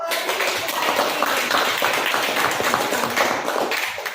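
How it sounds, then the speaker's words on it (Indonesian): A classroom of students clapping for a classmate, dense and fairly loud applause from many hands that holds steady and tapers slightly at the end. "beri tepuk tangan untuk"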